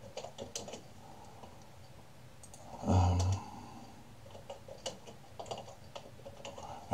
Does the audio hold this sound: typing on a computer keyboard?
yes